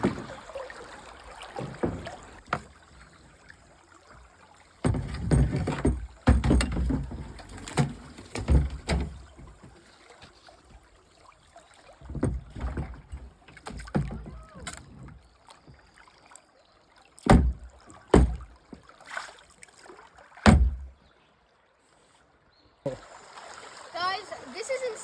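Kayak paddling on an outdoor river trip: irregular paddle strokes and water splashes, some loud and close, with quieter gaps and brief voices between them.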